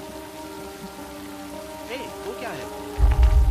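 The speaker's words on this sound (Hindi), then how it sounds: "बारिश बहुत तेज हो रही है।" Heavy rain falls steadily in the background beneath a sustained humming tone, with a burst of louder low thumping near the end; a voice briefly speaks over it.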